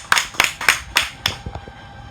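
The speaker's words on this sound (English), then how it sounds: "we can give a big applause to them." A few sharp claps from an audience at a migrant workers' book fair, five distinct bursts in quick succession, then softer scattered claps trailing off.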